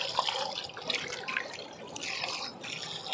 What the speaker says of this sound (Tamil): நல்லா வயிறுலாம் நல்லா சுத்தமாக கழுவணுமா